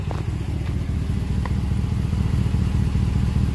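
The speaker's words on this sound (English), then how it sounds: "You can also hear the exhaust leaking right now." A steady, low engine rumble from a 2021 Chevy Trail Boss truck with a blown exhaust gasket, a rapid puffing, ticking exhaust-leak pulse running throughout, close and continuous.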